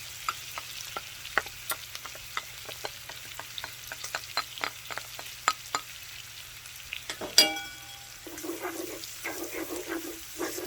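Onion and minced garlic frying with bacon and corn in a pan, a steady close sizzle broken by sharp crackles and pops, with a brief clatter of stirring near the end and no talk.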